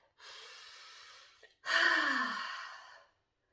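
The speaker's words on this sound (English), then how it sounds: "I want you to take that nice deep breath." One person takes a deep breath, close and quiet: a long steady inhale, a short pause, then a louder, fuller exhale that fades out.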